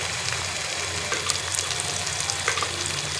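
Coriander powder frying in a pan over a medium flame, giving a steady close sizzle and crackle with a few brighter pops, with no voices over it.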